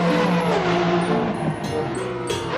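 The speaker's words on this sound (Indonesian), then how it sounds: "yang ini mobil balap" Toy race car giving off a steady, loud engine-like drone with a few higher whines, continuous throughout, with a voice talking faintly underneath.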